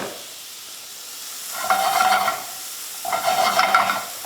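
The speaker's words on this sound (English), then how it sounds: "We're going to saute that up a little bit, get that going" Finely chopped small onion sautéing in a pan, a soft hiss that swells into two bursts of crackling sizzle as the onion is stirred, close and without speech.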